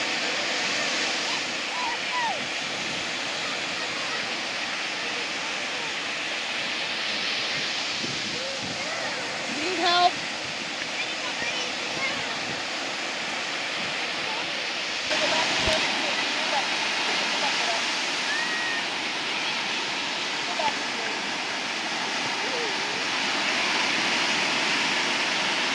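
Ocean waves roll in at Edisto Beach, a broad, steady roar of surf with a few louder surges, mixed with wind noise.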